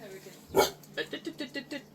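A neighbourhood dog out with a walker gives one sharp bark followed by a rhythmic run of six quicker barks, moderately close outdoors, with a person's voice mixed in.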